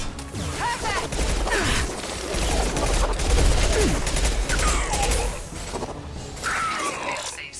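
Gunfire in the Mass Effect 2 video game: bursts of rapid automatic shots and impacts crackle over several seconds, mixed with game effects and voices, loud and dense throughout.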